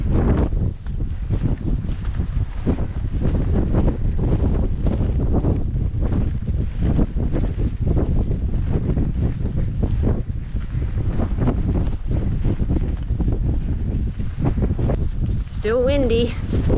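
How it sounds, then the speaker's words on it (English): Steady wind gusting across a microphone on a hiking trail, a dense, continuous rumbling roar that stays loud for the whole stretch, with a few brief voice-like sounds near the end. "Still windy."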